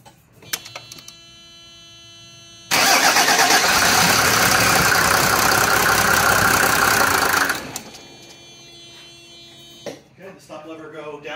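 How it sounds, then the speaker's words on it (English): Mercedes 300D diesel car engine cranking and firing up after starting trouble, a loud rough clattering run for about five seconds before cutting off, with faint clicks around it and a voice speaking near the end. "I'm going to turn the car on."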